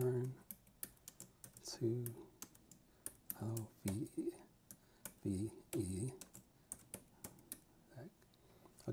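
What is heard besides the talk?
typing on Jelly Comb foldable keyboard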